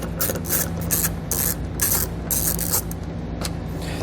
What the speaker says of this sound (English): So you want to grab a T15 Torx bit and we'll pull both of those out.